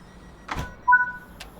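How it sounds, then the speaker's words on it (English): In Train Sim World 5, the doors of a Class 350 train close on the West Coast Main Line: a soft thump, then a short two-tone warning beep and a brief clunk, moderately loud, with no talking. "Close the train doors,"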